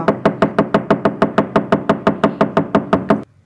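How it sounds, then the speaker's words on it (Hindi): A door is knocked on about seventeen times in an even, steady rhythm. Each rap is sharp and close, and the knocking stops abruptly near the end, like a horror story sound effect. "वो थोड़ी देर तक दरवाज़ा खटखटाता रहा।"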